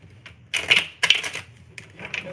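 Crisp papery riffling bursts of tarot cards being shuffled, two main rustling flurries followed by softer flicks, close up with no talking.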